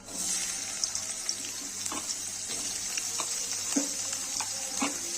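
Potatoes frying in hot oil with cumin seeds: a bright, hissing sizzle with irregular pops and stirring clicks, close and continuous, with no talk.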